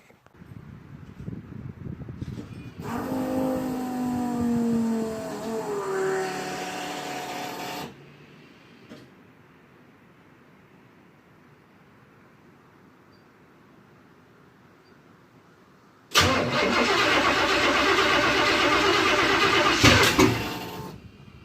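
A V8 car engine with Brodix heads and Holley Sniper EFI cranks with a whining starter, then goes quiet for several seconds before a second loud crank and roar, heard up close.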